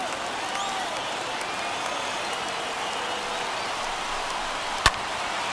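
Dense stadium crowd noise, a steady broadband roar of cheering and applause from about 23,000 fans rising to their feet during a Twins versus Tigers baseball game in MLB The Show, with one sharp bat crack near the end.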